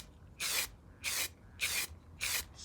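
Four short hissing bursts of an aerosol can spraying weld-through etch primer, evenly spaced and close, with quiet gaps between each spray.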